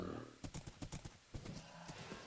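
Horse hooves clip-clop in Minecraft, several quick uneven steps in short bursts with brief pauses, moderately quiet, with a faint vocal-like sound nearby.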